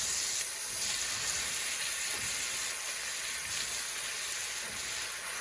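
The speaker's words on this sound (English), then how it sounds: "And then we're going to immediately pop in our bok choy." Bok choy sizzles in hot oil in a pan, a steady bright hiss that holds at an even level throughout with no talking.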